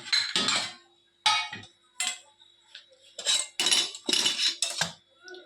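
Metal kitchenware clinks and clatters as a plate is prepared for steaming Gujarati khatiya dhokla, in a series of sharp, close knocks and scrapes with short pauses between them.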